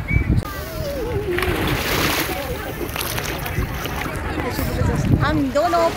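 Seawater splashes and sloshes at Girgaon Chowpatty beach in Mumbai as people wade into the sea, irregular splashes under lively talk and excited voices throughout.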